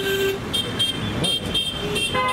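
Busy Mumbai street traffic with car horns tooting in short bursts over a constant, close roar of engines and road noise.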